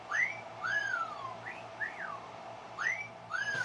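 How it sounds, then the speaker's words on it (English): A series of sliding, bird-like whistles, rising and falling in pitch, repeating several times over a low steady background hum. "I know I have a whistle sound effect"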